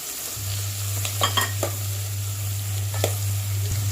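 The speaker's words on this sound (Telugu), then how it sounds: "రొయ్య ముక్కలు వేయాక ఉల్లిపాయ పచ్చిమిరపకాయలు వేసేసుకొని సాఫ్ట్గా అయ్యేదాకా వేయించుకోవాలండి" Prawns fry in a pan with onions and green chillies, giving a steady close sizzle and a low hum, broken by several quick scraping stirs of a spatula.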